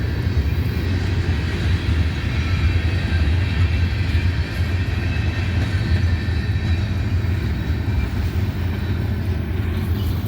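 A freight train hauling empty gondolas and hopper cars rolls past near Abbeville, a steady loud rumble of wheels on rails with a continuous low roar and faint rattling, holding level with no voices throughout.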